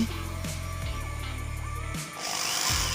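An iBall electric screwdriver-drill motor whirs steadily and loudly, its pitch shifting down and back up as it slows briefly before spinning up again.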